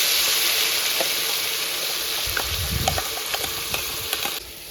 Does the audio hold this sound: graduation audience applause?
no